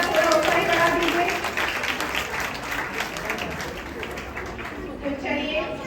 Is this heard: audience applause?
yes